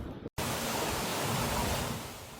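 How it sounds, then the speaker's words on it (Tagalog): Strong typhoon wind and rain roar as a dense, unbroken wash of noise over a village in Virac, broken only by a brief dropout near the start, then loud and constant. "binabayo ng malakas na hangin at ulan ang barangay Ibong Sapa sa bayan ng Virac"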